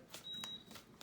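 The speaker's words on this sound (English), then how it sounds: "sorry about the beeping. Coffee's ready if you'd like some." A coffee maker gives a single high electronic beep, brief and clear against quiet room tone, with a few soft clicks around it.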